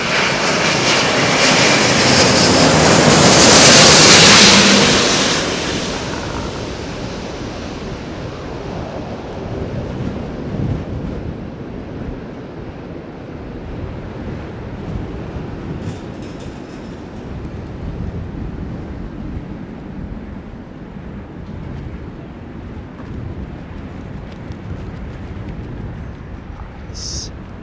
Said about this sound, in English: noise is the air rushing through the undercarriage.